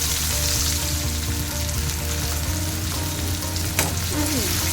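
Onion frying in hot oil with salt and turmeric, a loud steady crackling sizzle close by that runs throughout, with a low hum underneath and one brief clink near the end.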